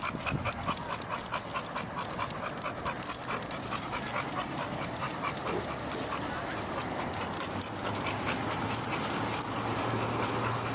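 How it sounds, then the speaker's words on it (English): Dogs pant and shuffle close by for several seconds, with a steady background of movement and scuffling and no voices. "We've got dogs on either side."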